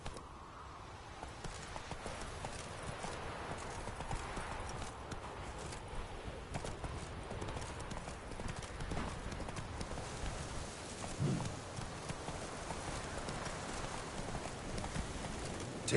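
Steady hoof clip-clop from a horse named in The Witcher 3: Wild Hunt, played on PS5, walking at an even pace throughout, moderately loud and close, with no voices over it.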